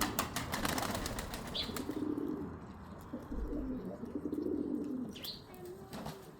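Pigeons coo repeatedly with low, soft calls, with wing flaps and flutters in between, all close by and outdoors with no talking.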